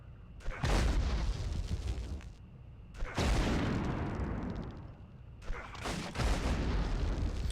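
Grenade explosions in the Medal of Honor video game, three heavy booms in a row, each a sharp blast followed by a long rumbling decay, loud and close.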